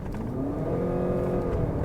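2025 Ford Kuga hybrid with a CVT gearbox under hard acceleration, its engine droning at a steady high rev with a rising whine, heard from inside the cabin with no talk.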